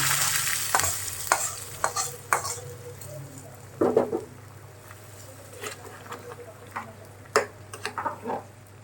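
Mutton curry with fried onion and dried chili sizzles in a pot while a spoon scrapes and stirs it in repeated clattering strokes over a low steady hum.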